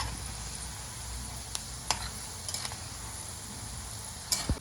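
Chillies fry in very hot oil for a Diwali murmure chiwda, making a soft, low sizzle broken by a few sharp pops and utensil clicks.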